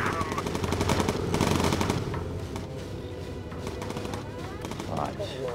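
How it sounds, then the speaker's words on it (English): Rapid machine-gun bursts from a bomber gunner's turret in the World War II bomber game Bomber Crew, loud and dense for the first two seconds, then thinner firing continuing over engine drone, with a voice talking over it. "So Turner's shooting"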